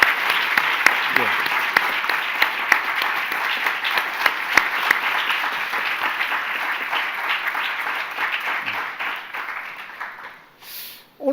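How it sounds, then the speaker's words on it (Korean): Conference audience applauding two academy directors at a diplomatic academy's 50th-anniversary global conference in Korea. Steady, dense clapping from a large hall crowd runs throughout and fades near the end. "두 분 원장님께 한번 박수를 좀 부탁드렸으면 좋겠습니다."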